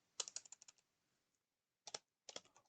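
Computer keyboard typing during an online Korean lesson: a quick run of about eight close, crisp keystrokes, a pause, then two shorter bursts of clicks, all quiet and free of talk.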